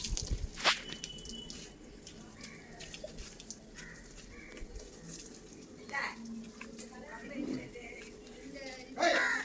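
Water splashing and dripping while a motorbike is washed with a cup of water and shampoo, with soft wet squishing and trickling, one louder splash near the start, and a voice talking over the washing throughout.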